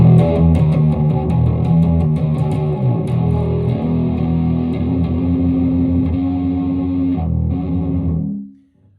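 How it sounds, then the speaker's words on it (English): A microtonal bass riff played through heavy distortion, thick and gritty with chugging repeated notes and sustained tones, loud and steady before cutting off and fading at the end. "And we can get this with our wonderful distortion."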